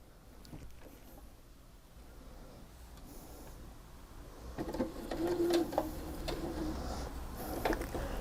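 A sewing machine stitching a quilt block, a faint low mechanical whir that grows louder and denser partway through and runs on with light clicks, no talking.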